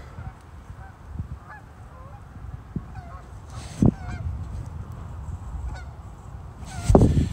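Geese honk intermittently nearby on a farm in cold weather, scattered nasal calls with two louder outbursts, against a low background rumble.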